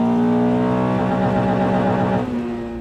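A Honda car engine, just repaired with a new tensioner, runs loud and close with an even, smooth hum, then eases down slightly toward the end.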